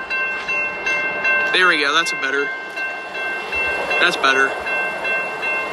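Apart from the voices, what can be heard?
Union Pacific intermodal freight train moving at crossing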